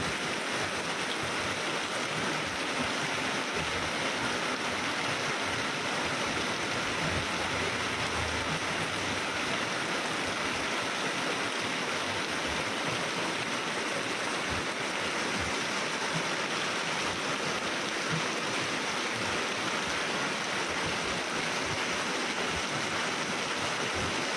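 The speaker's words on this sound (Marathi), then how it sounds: "आत्ता कणकवलीमध्ये प्रत्यक्षात पाऊस पडत सुरुवात झालेली आहे." Heavy rain falls in Kankavli, a dense, steady wash of rain that continues unbroken throughout with no voices.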